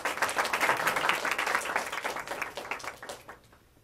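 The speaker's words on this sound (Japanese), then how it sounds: "拍手。" An audience at a university light-music club event applauds. The clapping starts full and lively, then thins into scattered individual claps before fading out.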